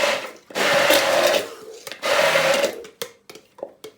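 An electric grinder whirs in two loud bursts of about a second each, blending coriander and mint, followed by a few short pulses and knocks, close and unvoiced.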